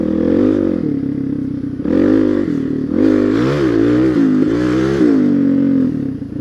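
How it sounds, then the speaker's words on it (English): Dirt bikes ride past close by, their engines revving up and down in loud rising and falling waves with gear changes and throttle bursts that carry through the whole stretch. "Guys riding dirt bikes down here."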